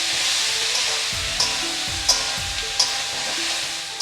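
Mutton pieces frying in a pan with salt and turmeric, a loud steady sizzle close up, punctuated by a few sharp stirring scrapes.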